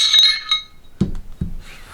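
Metal Glock pistol parts, a spring and a barrel, clink lightly while being handled, giving a couple of bright taps followed by two duller knocks close by.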